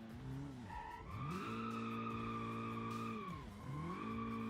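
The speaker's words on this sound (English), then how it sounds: "My front tires are locking." Car tires squeal in long pitched skids while drifting in BeamNG Drive, with a racing engine revving and shifting underneath, two sweeping squeals with a steady stretch between, loud and close.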